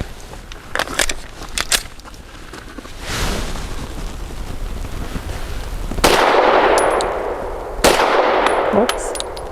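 Shots from a Tisas PX-9 Gen 3 tactical pistol firing 90 grain lead-free ball ammunition at a range, a few sharp reports mixed with metallic clanks and rattles, followed by a loud sustained burst of noise.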